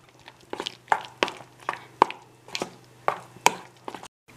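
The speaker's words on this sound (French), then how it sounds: "Je les coupe en cubes et je les mets dans ma crème d'amande." Knife cutting syrup-poached pears into cubes on a board, giving about eight crisp, evenly spaced chops close by with nothing else heard.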